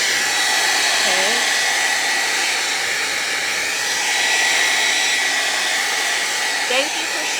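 A hair dryer blows a loud, steady whoosh close by while drying a garden urn and flowers craft, running continuously with a couple of faint voice murmurs beneath it.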